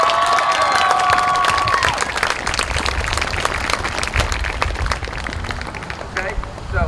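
Audience at a high school band parent showcase breaking into sustained, full applause with some cheering, holding steady before thinning slightly toward the end.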